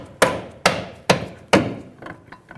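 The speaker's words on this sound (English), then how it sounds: "Using a soft face hammer, I'm going to tap in the middle of the control arm" Four sharp, solid taps from a soft-face hammer on the middle of a Honda Pilot front lower control arm, seating its bushing, in a steady rhythm, close and distinct, followed by a couple of fainter knocks.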